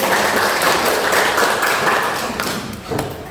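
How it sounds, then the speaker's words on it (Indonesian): A classroom group during a school coaching session breaks into lively applause, with close hand claps and a few taps and thuds, before fading off toward the end. "Tepuk tangan untuk kita semua."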